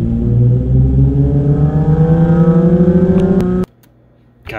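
A Nissan 350Z V6 engine with a 3.69 differential revs up through the gears with rising pitch, loud and close, a rasping brassy tone, then abruptly cuts off to a quiet idle hum.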